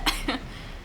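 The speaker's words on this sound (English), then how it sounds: "Cough, cough." Two short, sharp coughs from a game character who has just sunk into black seawater, close and distinct, followed by quiet background.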